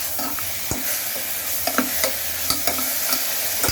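Tomatoes fry with sautéed onions in a pan for kuska biryani, a steady sizzle broken by repeated sharp scrapes and taps of a spoon stirring at an uneven pace, close up and with no voices.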